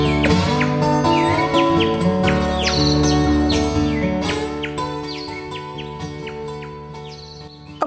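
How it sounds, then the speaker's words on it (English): Birdsong recorded outdoors on a short bird walk, with several chirping calls and rising song phrases repeating over a steady tonal background, moderately loud throughout. "I went on several short bird walks this week, hoping to record some songs and sightings for the show."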